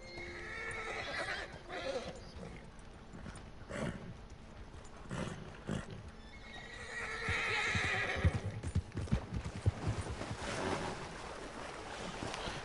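A horse in Red Dead Redemption 2 neighs and whinnies several times with hoof clip-clops, set against a game soundscape of water and boats, moderately loud with no talk.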